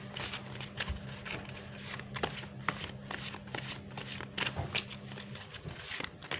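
Tarot cards are shuffled by hand in a series of soft, rapid riffling and patting bursts, steady throughout and close, over a low constant hum.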